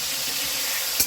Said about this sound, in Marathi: तेलामध्ये ना असं मटण चांगलं परतून घ्यायचं।